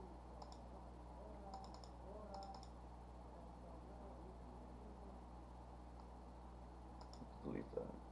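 Calculator keys are pressed in short bursts of faint, crisp clicks, grouped in twos and threes over a steady low hum, with a brief murmur of voices near the end.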